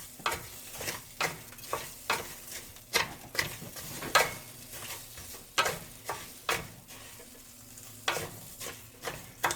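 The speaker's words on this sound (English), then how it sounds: "I like to cut my onion and add it to my rice once I know it's almost going to be brown" Onion and rice frying in oil for Mexican rice, stirred with a utensil: a constant sizzle with rhythmic scraping strokes about twice a second, close and clear.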